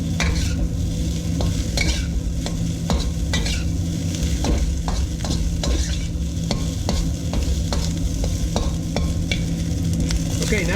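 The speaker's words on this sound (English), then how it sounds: "Now we're going to just stir this to mix it and get those rice kernels coated with the butter" Garlic fried rice is stirred with butter in a wok, a steady loud sizzle with frequent sharp scrapes and clacks of the utensil against the metal, close up and continuous.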